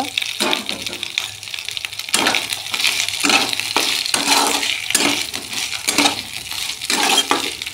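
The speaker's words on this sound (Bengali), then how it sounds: "আগে থেকে ভেজে রাখা পটল দিয়ে দেব।" Pre-fried pointed gourd pieces tumble into a pan and get stirred, giving repeated scraping and clinking strokes with light sizzling underneath, close and fairly loud.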